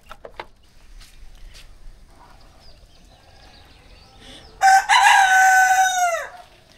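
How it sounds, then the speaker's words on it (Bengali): A rooster crows once in the morning, loud and close, a drawn-out call of about two seconds, after quieter scattered clucks and faint background sounds. "সকালবেলা আসলে মোরগের ডাক শুনলে আসলে গ্রামের কথা মনে পড়ে যায়"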